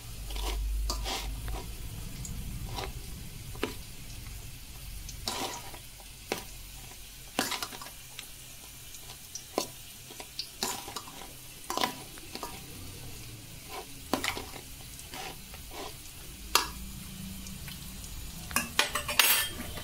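Tempering spices of chana dal, mustard seeds, urad dal and fenugreek seeds fry in hot oil with a steady low sizzle, broken by sharp clicks of a spoon stirring against the pan. No one speaks.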